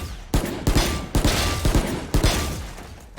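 Bulldog rifle in the Valorant video game firing repeated short bursts, several sharp loud volleys of gunfire in quick succession with a steady background din between them and no talking.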